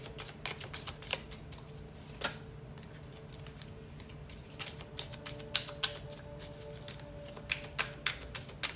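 A deck of tarot cards that still sticks together a little is shuffled in a steady run of soft riffles and quick card flicks, close and moderately quiet, with no talking.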